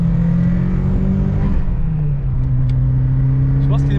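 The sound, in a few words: Ford Escort RS Cosworth turbo spooling while accelerating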